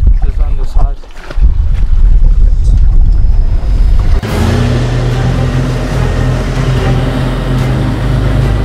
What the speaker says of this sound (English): Guys, so the wind started picking up.